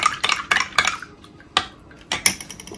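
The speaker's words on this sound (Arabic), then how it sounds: "نحرك مزيان هاد العسل مع الماء" A spoon stirs honey into water in a glass, with repeated quick metallic clinks against the glass in irregular bursts, close and clear with no talk.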